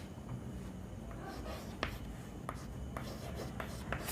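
Chalk or marker scratches faintly across a classroom board during a chemistry lesson, soft irregular strokes with a few sharper taps over low room hum.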